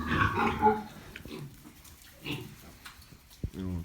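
Low grunts and snuffling from a sow with small squeaky sounds from newborn piglets, intermittent and close, with quiet gaps between bursts.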